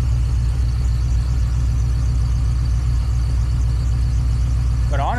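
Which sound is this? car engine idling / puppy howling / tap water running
car engine idling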